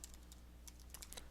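A computer keyboard is typed on briefly while a web address is entered, giving soft, fast key clicks in a short, uneven burst at close range.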